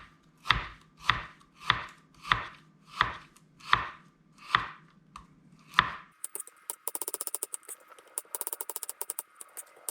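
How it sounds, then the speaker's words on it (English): A knife slicing Brussels sprouts thinly on a cutting board, eight evenly spaced crisp chops followed by a quicker run of light rapid cuts. "we're just gonna go ahead and slice them with a knife"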